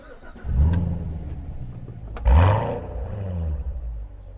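A 2014 Chevrolet Corvette Stingray Z51 with manual transmission cranks and fires up with a loud roar, settles into a deep idle, then gives a sharp rev blip around the middle before dropping back to a rumbling idle, heard close and alone.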